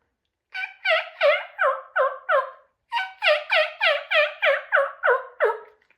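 A turkey call imitates the kiki of a young hen in two quick, close runs of sharp, whistly, descending notes, about six in the first and nine in the second, separated by a brief pause.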